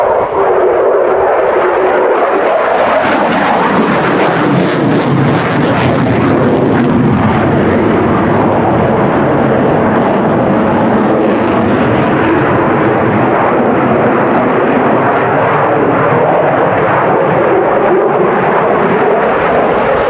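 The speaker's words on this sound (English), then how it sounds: "F-16 from 110 knots at the slope speed pass to that 600 knot pass" A Belgian Air Force F-16 jet makes a high-speed fly pass at RIAT 2017, a loud continuous roaring jet engine that swells and rumbles throughout, overwhelming and close, with no voices.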